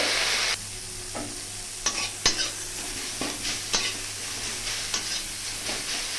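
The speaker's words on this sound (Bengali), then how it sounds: "এইভাবে ভালো করে ভেজে নিতে হবে" Food fries in a pan with a steady, hissing sizzle, broken by sharp clicks and scrapes of a spatula stirring it, close and continuous without any talking.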